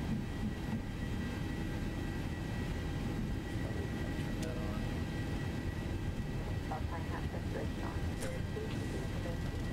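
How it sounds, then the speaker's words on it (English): Boeing 737-800 jet engines spooling at takeoff power in the X-Plane 11 flight simulator, a steady, low, broadband roar that holds evenly throughout, with faint higher whines and clicks on top. "Listen to those engines."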